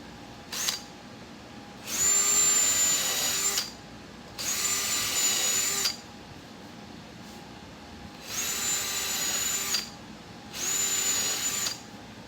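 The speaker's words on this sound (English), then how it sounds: "I'm gonna go ahead and drill these 3/8 holes now," A drill cuts 3/8-inch holes through the rear sail panel of a NASCAR Craftsman Truck in five separate bursts, one brief and four longer, each a steady high whine with quiet gaps between.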